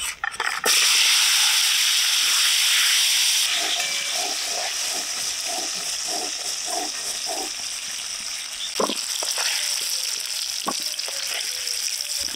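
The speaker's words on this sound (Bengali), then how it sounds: "নুন হলুদ দিয়ে যে আলুগুলো মেখে রেখেছি এবার ভেজে নেব।" Potatoes coated in salt and turmeric fry in hot mustard oil in a wok, giving a loud continuous sizzling hiss with occasional soft clinks of stirring near the end.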